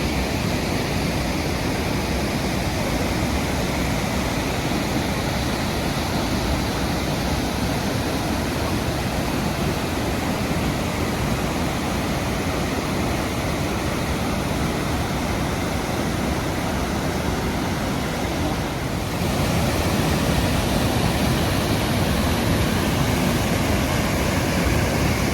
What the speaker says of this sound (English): So that's the amazing Stainforth Bridge over there, and the waterfalls begin here.